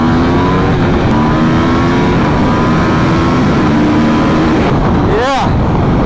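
Aprilia RSV4 1100 Factory motorcycles rev and ride past on a Miami street at a demo day, a loud continuous engine drone that swells into a sharp rising whine as one passes close by near the end.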